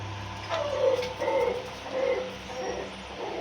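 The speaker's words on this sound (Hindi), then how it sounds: "ये भी कॉकटेल का एक ब्रीडर पेयर है" Cockatiel parrots in a breeder pair setup give soft, repeated calls, with several short notes spread over a steady background hum.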